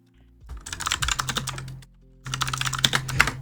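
Rapid typing on a computer keyboard, two close bursts of quick clattering keystrokes separated by a short pause, with no voices.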